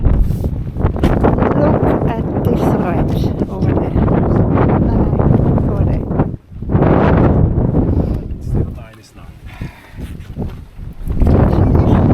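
Strong wind blows outdoors in the Norwegian winter wilderness, buffeting the microphone with loud, rumbling gusts that drop briefly to quieter lulls before surging again.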